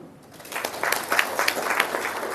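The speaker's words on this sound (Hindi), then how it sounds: "ताली तो बजाओ।" A small gathering at a Brahma Kumaris spiritual talk breaks into scattered, modest clapping that rises after a quiet start and continues unevenly, fairly soft and somewhat distant.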